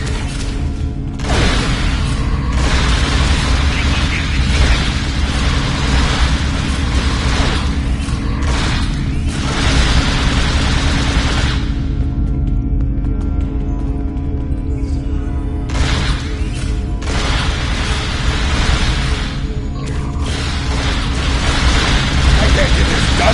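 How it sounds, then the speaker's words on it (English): Weapons fire and explosions in Star Trek Online make a loud, dense, continuous wash of blasts and bursts, dropping briefly to a quieter humming lull midway before the barrage resumes. "I can't get this done if they keep shooting me!"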